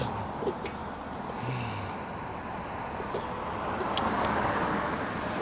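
Cars moving through traffic at a roundabout, a steady wash of road noise and passing engines that swells slightly toward the end, heard from a cycling trike with no talking.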